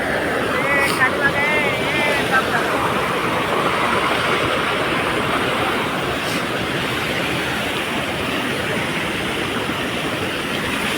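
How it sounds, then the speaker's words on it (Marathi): Water rushes out with great force at a waterfall in Pune, giving a loud, unbroken broadband roar that fills the whole scene, with voices faintly audible under it. "किती प्रेशरने पाणी येते बघा."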